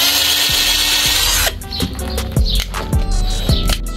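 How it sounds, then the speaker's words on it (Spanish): Power tool drilling at a stuck bolt in a door hinge: a loud continuous whine that breaks off, then a series of sharp metallic knocks and squeaks, close up. "Vamos a sacar el perno que está clavado ahí adentro también."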